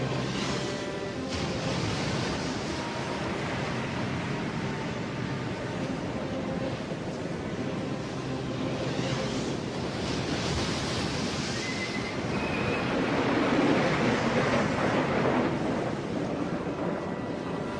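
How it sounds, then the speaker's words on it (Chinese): An animated sound effect of a stormy sea with big waves smashing a boat: a continuous, loud surging roar of water with swelling crashes building toward the end, without voices. "没想到中途遇到大浪，船身被凶猛的海浪打坏，大家纷纷掉落水里"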